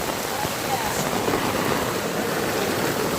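Heavy floodwater rushing through a village street in Gujarat after rain, a steady loud broadband wash with no breaks across the whole stretch.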